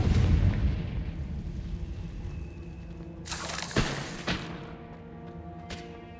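A Confringo spell blast in Hogwarts Legacy, with a heavy boom at the start fading into a low rumble, then sharper cracking impacts a few seconds later.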